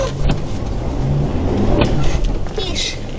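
A car engine revving while straining up a slope, a rough continuous drone at close range with a few brief clicks and knocks over the top.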